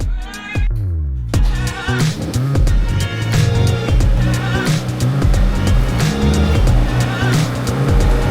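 A BMW F80 M3 track build rolls into a garage, its engine rumbling and droning steadily and loudly throughout, with a short dip near the start and no clear talk.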